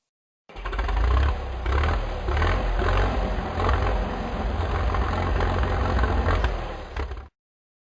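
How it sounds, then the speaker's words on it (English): Tractor engine chugging close by, a low, throbbing rumble with uneven surges and some rattling, steady throughout before stopping abruptly. "Tractor."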